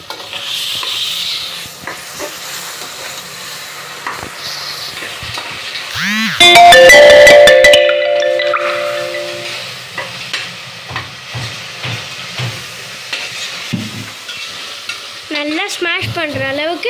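A spoon steadily stirs and scrapes masala for ghee rice with ginger-garlic paste in a hot pan, with a soft continuous sizzle throughout, a brief loud clatter partway through and a ringtone-like warble near the end.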